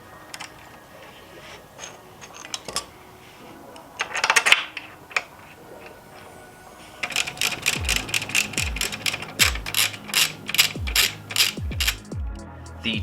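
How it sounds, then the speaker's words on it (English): A hand ratchet clicks in quick repeated bursts close up, tightening the brake caliper bolts on a Yamaha XSR900 / MT-09 motorcycle, after earlier scattered clinks of parts and tools being handled. "Go ahead and place your brake caliper back on the rotor and replace your caliper bolts."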